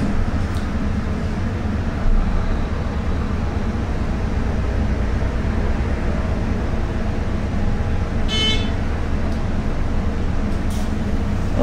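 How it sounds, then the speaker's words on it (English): A ThyssenKrupp elevator motor, part of a traction or hydraulic lift at a Clayton Metro bus and MetroLink station, gives a steady low hum and rumble throughout, with one brief hiss near the end. "Let's listen to the motor."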